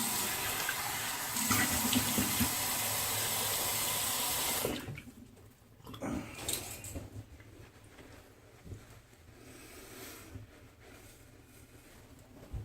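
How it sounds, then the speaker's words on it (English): Tap water runs steadily into a bathroom sink for a rinse after a double-edge razor shave, loud and close for several seconds, then cuts off, leaving faint handling noises and drips. "Let me rinse off."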